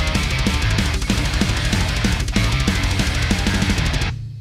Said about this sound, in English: Kind of a super fast power metal up-tempo kind of a thing.